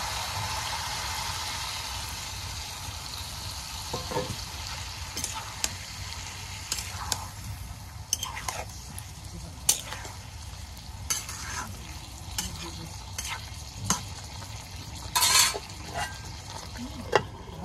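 Pomfret fish curry with tomato, new potatoes, beans and eggplant stirred and fried in a pan with a little water, a soft continuous sizzle under repeated clinks and scrapes of the spoon, close up with no talking.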